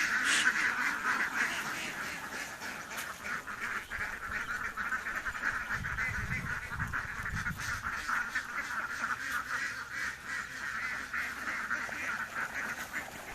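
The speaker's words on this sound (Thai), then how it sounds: "เดี๋ยวตอนเป็ดลงไปเล่นน้ำก่อน" Laying ducks foraging in a rice paddy field give repeated honking quacks, fairly steady and moderately near, over outdoor ambience with no talk.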